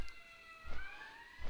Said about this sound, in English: those damn sirens out there